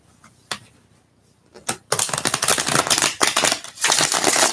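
A few soft isolated flicks, then a dense rapid riffling of stiff tarot cards being shuffled, close by, in two bursts with a brief break between.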